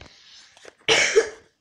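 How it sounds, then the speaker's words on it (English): A single sharp cough bursts out close by after a moment of faint breathy sound. "That was a cough."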